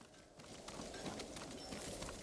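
Faint, rapid clip-clop of a horse's hooves in the video game Ghost of Tsushima, heard as a soft, steady trotting rhythm under a broad wash of background noise.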